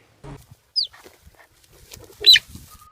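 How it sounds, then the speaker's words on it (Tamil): Two brief, squeaky, cat-like chirping calls of a cheetah, separated by quiet moments with faint low shuffling sounds. "சீட்டா கத்துற சவுண்ட் வந்து கிட்டத்தட்ட பூனை கத்துற மாதிரியான சவுண்ட்ல தான் சீட்டா கத்தவே செய்யும்."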